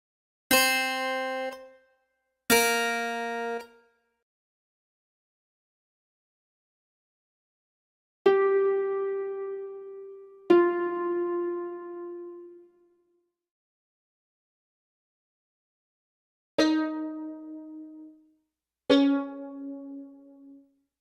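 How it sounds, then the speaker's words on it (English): Three pairs of bright struck notes ring out and decay, the second note of each pair pitched lower than the first, separated by clean silences. "Notes with a down pitch sound like this."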